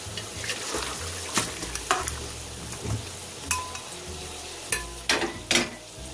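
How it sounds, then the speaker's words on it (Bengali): Boiled rice for chicken biryani poured from a pot into a perforated strainer bowl set over another bowl, with a steady hiss and a run of sharp metallic clinks and knocks; close and fairly loud, no talking. "এখানে আমি একটা ফুটো ফুটো ছিদ্র গামলি নিয়েছি আরও একটা গামলি নিয়েছি এর উপরে বসিয়ে আমি ঢেলে দিচ্ছি"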